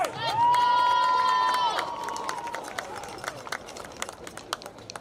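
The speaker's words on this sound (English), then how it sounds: "Let's give a round of applause for Bob and Kathy Edwards." Crowd at a high school football game between Woodrow Wilson and South Charleston cheers with scattered clapping. A shrill whistle rises over the noise before the cheering settles into lighter, spread-out claps.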